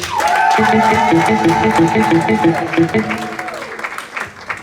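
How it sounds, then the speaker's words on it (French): A church congregation applauds and cheers in praise of the Lord. The dense crowd noise swells loudly over sustained organ or keyboard chords and a rhythmic accompaniment, then thins toward the end. "Je disais, acclame encore le Seigneur, acclame bien"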